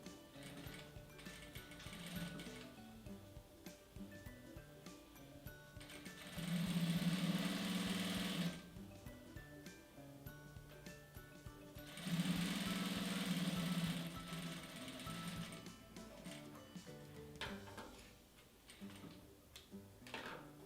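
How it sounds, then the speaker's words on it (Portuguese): A sewing machine runs a finishing seam on fabric in two short bursts of steady whirring stitching, separated by quieter pauses with faint mechanical ticking, fairly soft and close, no voices. "vou voltar e bater a costura de acabamento"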